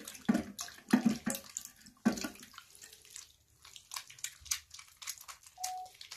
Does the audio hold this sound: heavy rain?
no